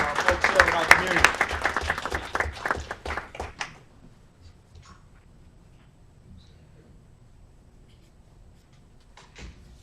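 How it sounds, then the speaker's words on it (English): Audience applause fills a city council meeting in Aurora, dense clapping for about four seconds before thinning into scattered claps and room noise. "another round of applause for our folks serving our community"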